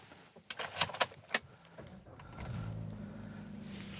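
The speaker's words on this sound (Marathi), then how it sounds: "थोडा वेळ गाडी चालू ठेवायला लागेल" A car engine turns over and settles into a steady, low idle left running, preceded by a few sharp clicks and clatters like a door and keys, recorded from inside the car.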